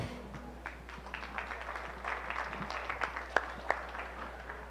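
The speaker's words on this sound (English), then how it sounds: "round of applause for all the exhibitors here coming out today" An audience at a 4-H provincial beef show applauds the exhibitors, with scattered, moderately faint clapping and a few sharper claps standing out near the end.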